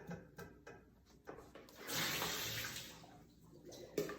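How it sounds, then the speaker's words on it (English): Soaking water is poured off soaked Brazil nuts and pumpkin seeds, a splashing, gushing pour that swells for about two seconds midway between softer clatters and drips, close and fairly quiet. "So I'm just gonna drain this water because we're not gonna need it anymore."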